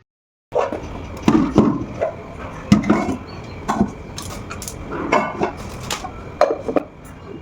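Pots and glass lids clank and clatter close by, irregular knocks and rattles as dishes are moved and stacked one after another.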